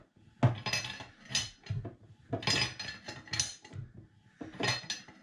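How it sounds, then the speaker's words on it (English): A spanner tightening a nut on a Granturismo bearing tool that pulls the crank into the bearing, close metallic ratcheting clicks and clinks in three bursts. "you need a spanner on that nut, and one on this nut. And then just tighten that nut in"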